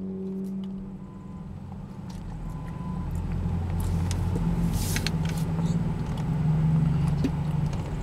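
Road traffic streaming past a car wreck, a dense continuous roar of engines and tyres swelling gradually louder, with a brief hiss of a vehicle passing close partway through.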